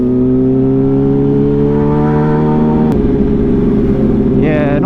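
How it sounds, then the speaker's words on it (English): A motorcycle engine idles and lugs at low RPM up close, a loud steady harmonic drone that shifts slightly in pitch, with a brief tonal whine near the end. "My bike does not like low RPMs"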